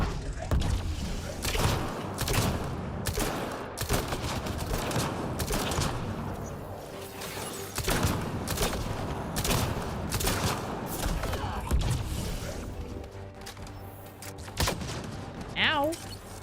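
Rapid bursts of gunfire in the sci-fi shooter Mass Effect Andromeda, sharp repeated cracks through a busy battle mix, loud and close, with occasional thumps.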